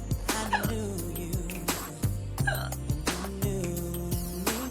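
Repeated sharp hiccups break out while someone dances, a series of quick abrupt gulps over a backing of rhythmic music with a steady beat.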